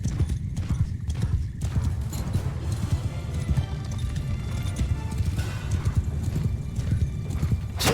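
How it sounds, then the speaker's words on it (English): Horses gallop in a Mount & Blade II: Bannerlord cavalry charge, a dense, continuous drumming of many hooves that stays loud and near throughout, with whinnies mixed into the rumble. "Cavalry attack!"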